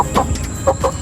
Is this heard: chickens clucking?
yes